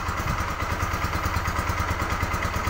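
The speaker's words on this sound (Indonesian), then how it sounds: "mesin menyala dan nggak ada berebet ya" Bajaj Pulsar 200NS motorcycle, fitted with dual CDI ignition, idling steadily up close with a regular low pulsing throb and light mechanical clatter, no talk over it.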